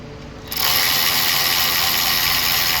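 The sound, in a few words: loosening size 10 bolts on 2015 Dodge Journey engine bracket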